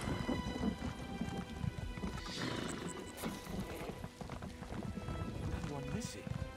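Horse hooves clip-clop steadily in The Elder Scrolls Online as a horse climbs, with occasional whinnies and game ambience, all under continuous talk.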